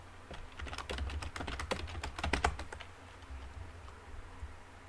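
A password is typed on a computer keyboard as a quick, close burst of crisp keystrokes lasting about two seconds, then the room falls quiet.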